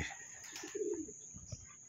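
A pigeon at a racing loft gives a soft, brief coo, close by under a faint steady whine and light background bird chirps.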